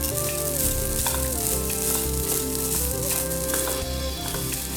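Grated coconut with curry leaves, fenugreek and cumin roasting in coconut oil over a medium flame for Kerala sambar, giving a loud, close, continuous sizzle and frying crackle with occasional stirring scrapes.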